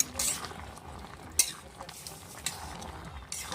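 Mixed greens curry being stirred in a pan, soft scraping and clinks of a utensil with a faint sizzle, several short quiet strokes at irregular intervals.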